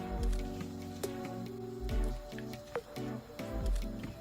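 A spoonful of chili oil goes into a pot of simmering sundubu jjigae, producing close, wet squishing and dripping sounds. Low bubbling continues underneath in a soft, uneven rhythm.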